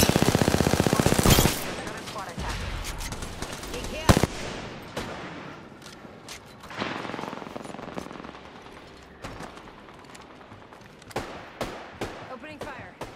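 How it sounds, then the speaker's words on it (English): Rapid automatic gunfire in the Apex Legends video game opens loud and dense, then continues as scattered bursts and sharp single shots, with voices talking over the action. "Opening fire."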